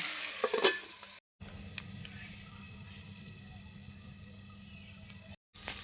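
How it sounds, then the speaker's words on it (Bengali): Potatoes frying in a covered pan give a low, steady sizzling hiss, close and even, after a few clattering handling noises at the start. "ভালো করে আলুটা ভাজার জন্য"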